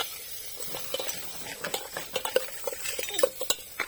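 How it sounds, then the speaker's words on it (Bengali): Potatoes and onions frying in a home kitchen, with a utensil scraping and clinking against the pan in short irregular taps over a soft sizzle, close and fairly quiet. "করছি আলু পেঁয়াজ ভাজা। আর দেখো এখানে রান্না হচ্ছে"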